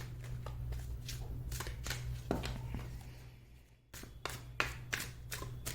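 Tarot cards being shuffled and drawn by hand, a fast run of crisp riffling flicks and soft taps close by, with a short pause before the quick card slaps start again.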